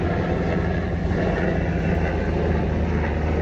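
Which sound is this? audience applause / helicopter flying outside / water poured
helicopter flying outside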